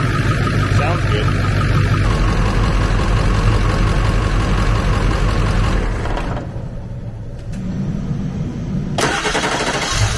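A Ford F350 engine idles steadily while warming up to temperature, a loud continuous rumble that thins out briefly in the middle before returning at full level.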